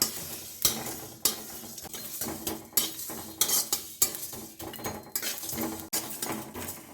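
A spice mix roasts in a pan while a metal spatula scrapes and knocks against it in regular strokes, sharp clinks over a soft dry sizzle, close up and with no talking.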